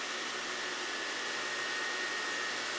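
A Myford MG12-CNC precision cylindrical grinder makes a single grinding pass, a steady broadband hiss of wheel on workpiece with a faint constant whine, even and uninterrupted, at moderate distance.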